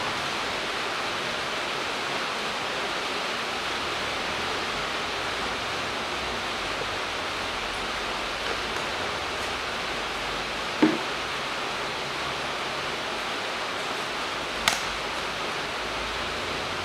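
Gearbox oil for a 2007 Ford Ranger 2.5 turbo pours into a container in a steady, hissing stream that continues evenly for the whole stretch, with a couple of faint clicks.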